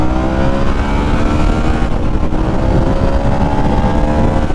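A liquid-cooled Harley-Davidson Sportster S motorcycle runs at full throttle, its engine roaring loud and steady with a rising, strained pitch, close and continuous with no speech.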